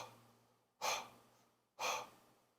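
A voice imitates a ghostly presence breathing in the ear: two loud, breathy exhalations about a second apart, close and intimate against a quiet background with no talk.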